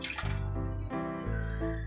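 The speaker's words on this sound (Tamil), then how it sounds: "இந்த டைமில் நம்ம தேங்காய் பால் ஒரு 100 மில்லி ஊற்றிக்கலாம்." Coconut milk poured into a simmering tamarind gravy with dried turkey berries, a close, continuous liquid splashing and gurgling pour lasting about two seconds.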